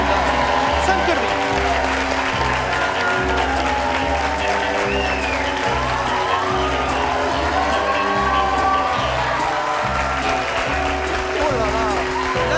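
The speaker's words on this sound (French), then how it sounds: "je vous demanderai d'applaudir maintenant Jacques, sosie de James Bond, Sean Connery" A studio audience applauds a guest, a James Bond and Sean Connery lookalike, on a French talk show, with steady, full clapping and some cheering lasting throughout, mixed with a host's voice over the crowd.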